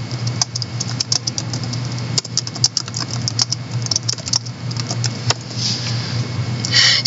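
Rapid, irregular clicking of keys on a computer keyboard while formatting a Word document, close and clear over a low steady hum, with no talking.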